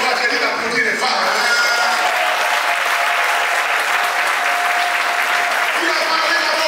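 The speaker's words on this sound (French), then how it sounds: "J'ai dit d'applaudir les femmes." Church congregation applauding at an Easter service, a steady, dense wash of clapping that fills the whole stretch with voices mixed in underneath.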